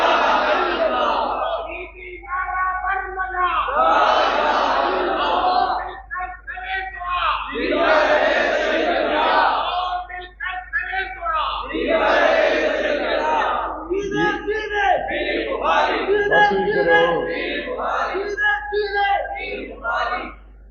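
A large crowd at a religious convention chants slogans in long, loud, rhythmic bursts, each roaring call swelling and fading and repeating several times, filling the hall with massed voices.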